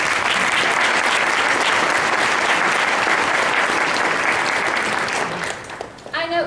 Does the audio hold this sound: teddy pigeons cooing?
no